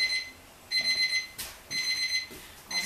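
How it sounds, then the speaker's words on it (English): An exercise timer alarm goes off during a beginner leg workout, sounding as repeated bursts of rapid electronic beeping with short pauses between them, loud and close, with no talking over it. "there's my timer going"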